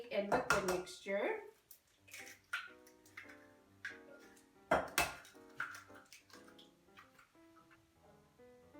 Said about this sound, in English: So first thing I'm going to do is mix up my egg and liquid mixture.